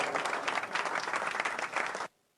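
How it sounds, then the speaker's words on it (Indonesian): A church audience claps steadily in a dense, even wave of applause lasting about two seconds before it cuts off abruptly into near silence. "mari kita beri aplaus malam hari ini para penonton"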